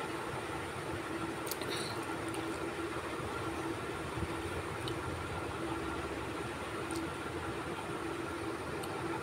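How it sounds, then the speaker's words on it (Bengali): Besan egg fritters fry in hot oil, making a dense, steady sizzling hiss close by that holds evenly throughout with no pauses and no talk. "দেখো আমি দিচ্ছি, এটা ভাজবো"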